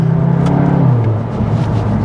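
A Cupra Leon front-wheel-drive hot hatch with a DSG gearbox sends out a loud, close engine and exhaust drone whose pitch rises and then settles lower, as if easing off after a rev.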